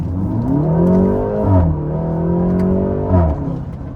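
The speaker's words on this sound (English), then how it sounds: "Like, that Upshift brap is fucking crazy, man." BMW G20 330i with a tuned transmission accelerating hard, heard from inside the cabin: a loud rising engine drone that drops sharply at each quick upshift, with two shifts audible and no voices.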